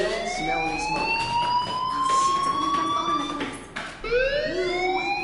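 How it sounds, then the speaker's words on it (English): Fire alarm in the Life is Strange video game wails with a rising and falling electronic tone, loud and continuous, sweeping up again near the end. "do you hear that fire alarm? That means you should be outside."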